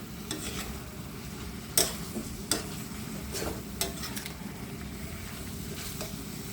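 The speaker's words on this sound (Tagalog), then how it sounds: "In minutes lang itong simmer mga lods kasi madali lang maluto itong pusit." Squid adobo with pork belly simmering in a pan while being stirred, a steady low bubbling sizzle with a few sharp utensil scrapes and clicks against the pan.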